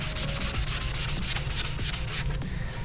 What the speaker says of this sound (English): We're going to first take the sanding pad, exactly where our mount's going to be.